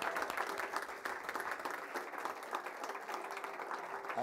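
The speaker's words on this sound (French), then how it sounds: "j'aimerais que toutes les personnes qui sont là vous applaudissent" An audience applauds at a regional amateur football awards ceremony in Alsace, a dense, steady wash of clapping from many hands that fills the hall, close and continuous throughout without any speech over it.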